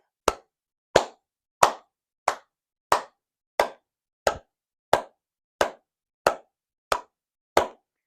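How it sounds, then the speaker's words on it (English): A class of music students claps a steady beat together, twelve sharp, evenly spaced claps about 0.65 seconds apart, with silence between each. "then we'll start clapping that beat"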